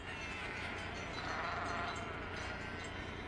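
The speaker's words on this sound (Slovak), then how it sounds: "Ani ovce nezaháňa." Sheep bleat outdoors, a single drawn-out bleat rising over steady background noise, fairly distant, with no talk.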